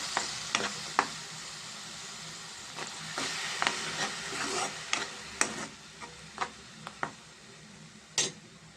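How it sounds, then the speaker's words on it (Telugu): Spice paste with turmeric and salt fries and is stirred in a pan, a soft sizzle under scattered close spoon scrapes and taps. "ఇవి కొంచెం పచ్చివాసన పోయేదాకా ఫ్రై చేసుకున్నాం"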